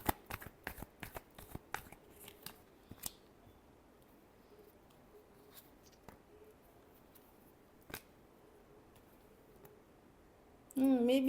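Tarot cards being shuffled close by in a quick burst of crisp riffling clicks, then a few sparse taps against a quiet background.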